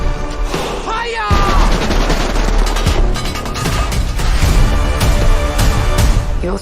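A loud volley of gunfire crashes out right after a shouted order to fire, dense overlapping shots and booms rolling on for several seconds, with a voice heard at the start.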